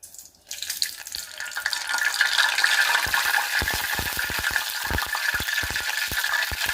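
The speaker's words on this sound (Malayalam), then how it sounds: "പാത്രത്തിൽ നിന്ന് വെള്ളം ഇറ്റ് എണ്ണയ്ക്കകത്തോട്ട് വീണ്" Water drips from a vessel into hot frying oil where a loose banana-fritter (pazhampori) batter is cooking, making a steady close sizzle that turns into dense, sharp crackling pops from midway on.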